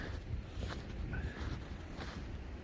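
Steady cold wind rushes and buffets against the microphone in Montana brush country, a constant blustery roar with no voices.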